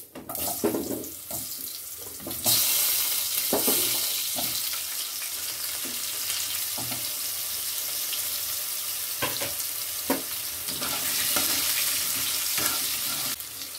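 Potato pieces go into hot oil seasoned with five-spice and dried chillies, giving a loud, continuous hiss with a rushing, splashing quality, marked by a few sharp knocks of a spoon against the pan.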